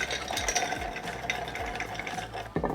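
Spoon stirring a rum and cognac cocktail built on red vermouth and Pierre Ferrand Reserve Double Cask, a steady low swirl and faint clinks close by, with no talk.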